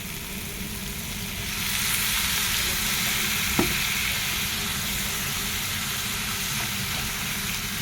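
A splash of water hitting a hot frying pan of cooking fish-roe and banana-flower curry sets off a loud, steady hissing sizzle that swells and holds, with a single brief clink partway through.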